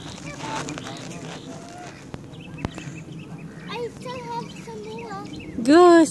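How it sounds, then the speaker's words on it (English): Canada geese honk and white and black ducks call amid background chatter and voices, ending with a loud, close honk. "Goose, Canadian honkers, white ducks, black ducks."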